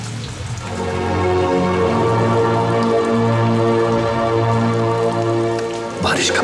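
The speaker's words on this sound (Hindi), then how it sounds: "बारिश का पानी" Steady, dense rain falls throughout a scene from the film Zinda, a continuous hiss over a sustained tonal drone, fading briefly near the end.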